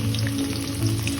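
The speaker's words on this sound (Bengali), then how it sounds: "দেখুন সর্ষের তেলটা গরম হয়ে গেছে। এবার তাতে আমি মাছগুলো দিয়ে দিচ্ছি" Fish pieces fry in hot mustard oil in a pan, giving a steady close sizzle with soft crackle throughout a short stretch.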